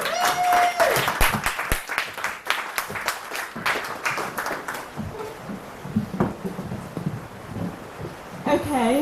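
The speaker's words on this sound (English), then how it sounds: "Keep the applause going for Mrs. Destiny." Applause from the audience at a Halloween poetry event swells at first and then fades to scattered claps and murmuring voices, with a brief tone near the start.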